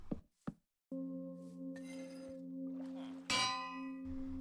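A village bell rung in Minecraft gives out a sustained metallic ring with a long steady tone, struck again partway through, loud and clear after a couple of short knocks.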